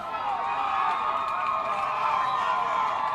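A crowd cheering at a college rugby match between Point Park and Fairmont State: a steady, sustained roar of many voices, moderately loud and even throughout, with individual shouts rising within the wash of noise.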